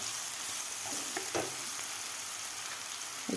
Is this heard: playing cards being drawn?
no